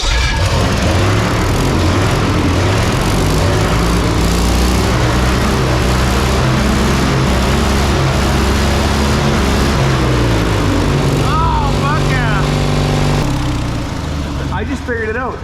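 A 1979 Ford F-250 welding truck engine revs hard to redline alongside another engine, a loud, sustained roar held for about fifteen seconds before easing off.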